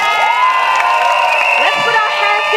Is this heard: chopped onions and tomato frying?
no